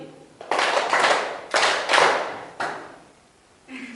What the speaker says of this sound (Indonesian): Tepuk 2, 2 kali